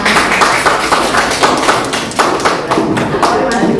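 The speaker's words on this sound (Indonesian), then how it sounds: "beri tepuk tangan" Students in a classroom applaud together, a dense run of hand claps with quick, uneven rhythm lasting several seconds, close and fairly loud.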